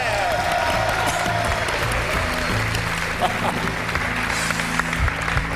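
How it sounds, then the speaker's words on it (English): A quiz show studio audience bursts into sustained applause and cheering, a dense, loud crowd roar holding steady throughout. "There was a distinctly manly cheer that went up there"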